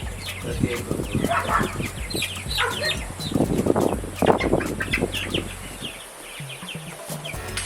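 Several young chicks cluck and chirp close by, a busy overlapping chatter with some wing flapping, fading slightly near the end.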